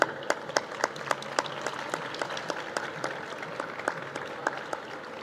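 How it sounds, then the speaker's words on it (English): Applause from the audience at an international press conference for the Valencia Half Marathon 2024, greeting runner Lilian Kasait: scattered, fairly sparse claps with distinct individual hits, moderate in level and heard without talk. "So please, big applause for Lilian Kasait."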